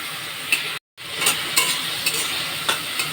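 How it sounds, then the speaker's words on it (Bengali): Spices with chili powder, salt and a splash of water sauté in a pan for a cauliflower, potato and fish curry, giving a soft sizzle broken by repeated spatula scrapes and clicks and one brief pause. "লঙ্কার গুঁড়ো, 1 চামচ নুন দিয়ে কষবো। একটু জল দিয়ে কষবো।"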